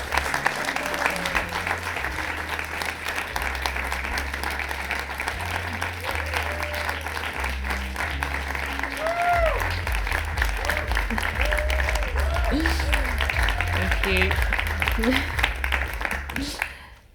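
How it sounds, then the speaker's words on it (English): Sustained audience applause welcoming a speaker at a PSA membership presentation, dense steady clapping throughout with a few cheers and whoops rising above it. "Please give a huge round of applause for Danielle Dobson."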